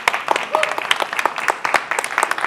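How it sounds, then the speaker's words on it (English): Audience applause, a brief burst of scattered hand claps from a seated crowd, fairly close and lively for a couple of seconds. "It's always cool to get a few claps,"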